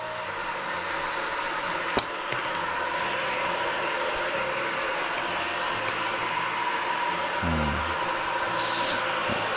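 A Dyson vacuum cleaner with a brush bar that will not spin drones steadily with strong suction, a constant whining hum broken by a brief click and a short bump near the end, and nobody speaking.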